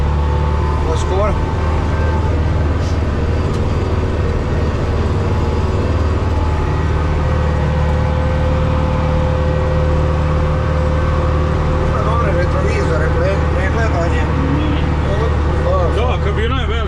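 A new Changfa 1204-B tractor on its first ride, with a loud, steady engine drone running throughout and close voices talking over it.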